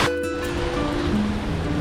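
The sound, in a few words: Manella waterfall with lots of water flowing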